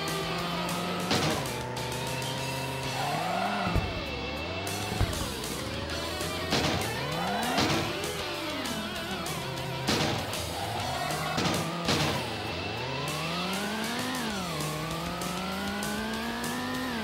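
Racing cars in a Sega Saturn video game rev through repeated rising and falling engine sweeps over about seventeen seconds, with steady synthetic engine whine and brief squeals through tight drifting turns.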